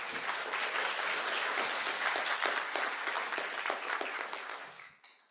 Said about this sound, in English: please give a big round of applause all of the speakers